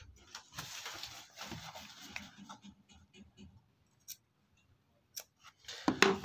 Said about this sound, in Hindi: अब यहाँ पर कोनों पर कट लगाना है, ठीक है, सिलाई तक कट लगाना है